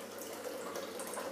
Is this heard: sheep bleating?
no